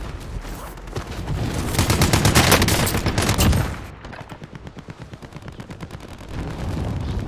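Rapid automatic gunfire in the Warzone video game, loud and close, first a dense roaring volley, then a steady rhythmic rattle of individual shots continuing to the end.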